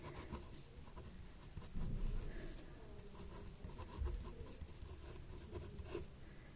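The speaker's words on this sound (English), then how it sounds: "If you are confused, then I will also write it like this." A lecturer writes out a convex conjugate definition, producing faint, soft scratching strokes in uneven bursts against a quiet background.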